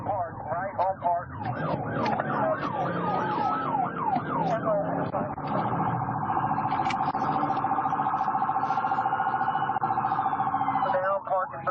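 A wailing ambulance siren sweeps up and down, then shifts to a steady high tone, loud and close, with voices and police radio chatter underneath during a pursuit of the stolen ambulance.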